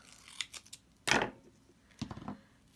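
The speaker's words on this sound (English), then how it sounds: "take some of my duct tape and make sure I got a big enough piece and cut it off" Duct tape snipped off a roll with scissors during a DIY project; quiet, close, with a few soft crinkles and then one sharp, crisp cut, followed by another fainter snip and rustle.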